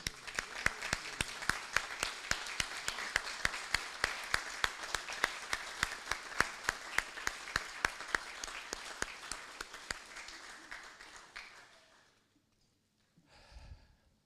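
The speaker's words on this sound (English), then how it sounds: "give them a round of applause for gratitude" Graduates at a college diploma ceremony applaud their parents with sustained, dense clapping that carries steadily for about twelve seconds, then stops abruptly, followed by a short faint rustle.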